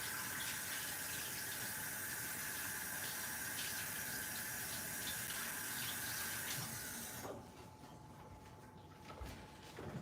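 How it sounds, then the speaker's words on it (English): Tap water runs steadily into a sink while a knife is washed off, a broad, even gush that cuts off sharply near the end, leaving a few faint clinks and drips. "Just need to wash off the knife really quick"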